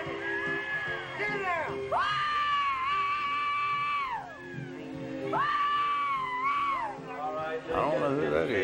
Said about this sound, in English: They're screaming.